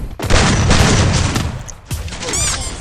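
Grenade explosions and bursts of gunfire from the Free Fire battle royale game, loud and continuous, with rapid shots and booms overlapping throughout.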